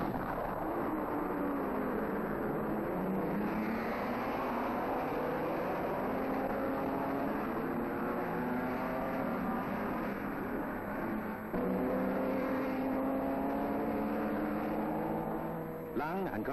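Mercedes W125 racing cars at the 1930s German Grand Prix, engines roaring continuously at a moderate distance with rising and falling pitch as they pass, someone talking over them throughout.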